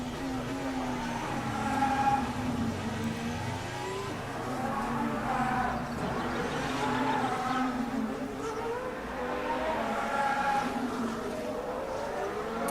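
Onboard Charles Leclerc's Formula 1 car in Monaco practice, 2023: a continuous high engine whine that rises and falls with gear changes and corners, held steady throughout with a faint voice beneath it.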